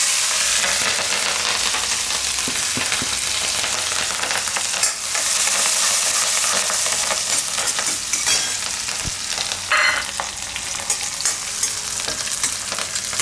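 Whole cumin seeds and chopped green chilies sizzle in hot oil for a parotha filling, a loud, steady crackling hiss that runs throughout with brief sharper spits, and no voices.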